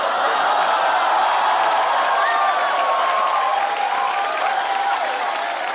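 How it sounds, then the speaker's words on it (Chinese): Loud, sustained applause and cheering from a stand-up comedy audience, a thick continuous roar of clapping with scattered whoops and some laughter mixed in, holding steady from start to finish. "你们先不用欢呼"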